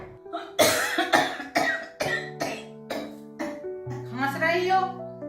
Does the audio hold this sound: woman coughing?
yes